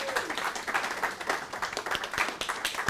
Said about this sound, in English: Just give these guys a round of applause for doing the exercise.